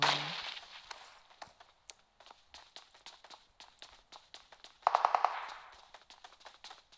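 Gunfire in the mobile video game PUBG Mobile: faint, scattered sharp shots and clicks with a brief rapid burst of automatic fire midway, distant and thin, without clear talk.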